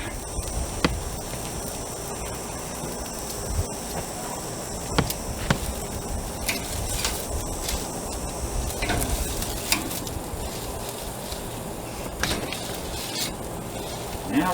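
Corn in its husks sizzles and crackles steadily on a hot Char Griller charcoal grill, with occasional louder pops and scrapes as it is shifted, close and continuous.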